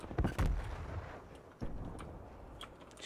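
Gunfire in the video game Call of Duty: Cold War, with two quick heavy booming shots close together at the start and another single thud a moment later, all booming and low, with no talk.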